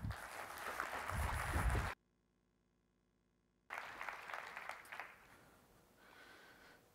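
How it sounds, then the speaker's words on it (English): An audience at a business school talk applauds to welcome a speaker, with scattered moderate clapping that cuts out abruptly, then resumes briefly before fading. "Please give him a hand of applause."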